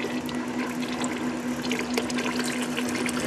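An SB2009 polyurea pump flushing xylene through its hoses makes a steady, loud rushing of liquid over a constant mechanical hum.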